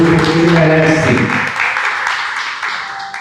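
A church congregation claps together in a loud wash of applause that fades over a few seconds, with a voice speaking over the start.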